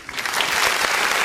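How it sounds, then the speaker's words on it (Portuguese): A church congregation applauding at a service, with dense, steady clapping from many hands that fills the room and holds throughout the short burst. "Aplauda o Senhor Jesus."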